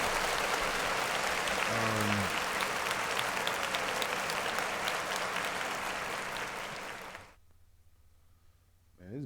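Loud, sustained applause from many hands that keeps going for several seconds, then cuts off sharply into near silence, with a brief sound returning at the very end.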